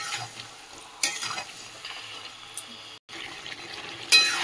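Chicken pieces rubbed with salt, turmeric and a little oil are stirred and sautéed in spiced oil, giving a steady close sizzle with scraping spoon strokes and a brief pause near the end.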